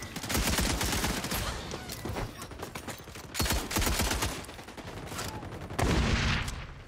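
Automatic weapon fire in the shooter game XDefiant rattles in several sustained bursts separated by brief pauses, loud and close with dense rapid shots.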